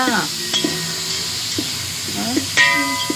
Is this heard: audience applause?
no